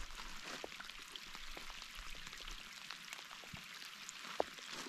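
Light rain falling on a mountain hike, heard as faint, scattered raindrop ticks and patters over a soft, quiet background hiss.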